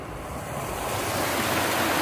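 Mountain river water flowing beside a walking path on a sunny afternoon, heard as a steady, dense rushing noise that grows slightly louder over two seconds, with no voices.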